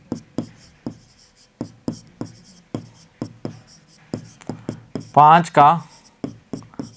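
Maths being written out for a Class 6 lesson on fractions: quick, dry tapping and scratching strokes in an uneven rhythm, close by, with a brief spoken voice partway through.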